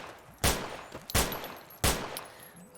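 Three loud, close 10mm pistol shots in Fallout: New Vegas, evenly spaced, each a sharp blast with a short decaying tail.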